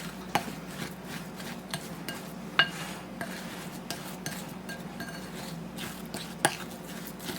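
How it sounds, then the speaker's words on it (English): A spoon stirs graham cracker crumbs and melted butter for a pie crust in a bowl, giving soft scraping and gritty crunching with sharp clinks against the bowl at irregular intervals, close and alone. "we're just going to mix it all up really good with our spoon"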